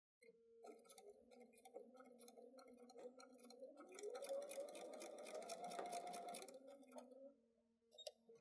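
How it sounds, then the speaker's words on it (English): A domestic sewing machine stitching fabric for a back-to-school door banner, its motor whirring steadily with a rapid needle clatter that speeds up in the middle before slowing and stopping, heard close and alone. "I know that I'm going to sew directly down the center of this."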